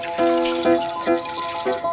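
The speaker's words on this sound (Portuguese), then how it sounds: "Vou colocar a água" Water pours and splashes over Japanese short-grain rice in a bowl for washing, coming in several short bursts with a faint dripping trickle between them.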